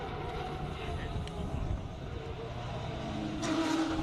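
A white Porsche GT3 Cup race car with red decals idles on the start line at a classic car speed event in Cape Town: a steady, fairly loud engine rumble swelling slightly toward the end, with outdoor noise around it.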